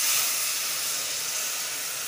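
Water poured into a pan of spiced mixture frying over low heat with chilli powder, producing a loud, steady hiss that fades slightly as it settles, close up and without voices.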